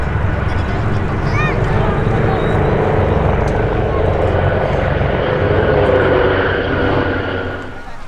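Gazelle helicopters in a four-ship display team brake hard at the Midlands Air Festival air show, a loud continuous rotor and engine roar that swells and then fades slightly near the end, with a commentator talking over it.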